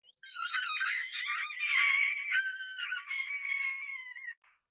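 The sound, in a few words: Pangosian child screaming in audiobook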